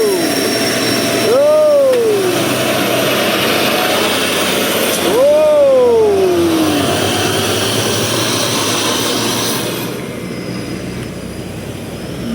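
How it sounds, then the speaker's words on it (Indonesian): A Hino 500 tanker truck's engine roars steadily as it climbs the Sungai Karas hill, loud and close, with two rising horn-like whines and someone talking over it. "Bunyi mesinnya sangat menggila bosku"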